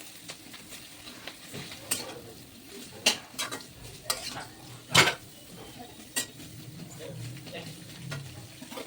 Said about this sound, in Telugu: బాగా వాష్ చేసి పెట్టుకున్న బీరకాయ తొక్కులు అనేది మనం ఇప్పుడు అందులో వేసుకోవచ్చు. కలుపుకుందాం.